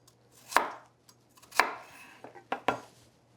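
A knife chops a carrot into round slices on a board, giving four or five sharp, close cuts with short gaps between them and no talking.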